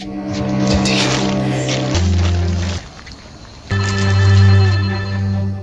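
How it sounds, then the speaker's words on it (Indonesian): A phone rings with a loud electronic melody that plays, breaks off briefly, then resumes, close and clear with nothing else heard. "Lalu terdengarlah suara ponsel berdering"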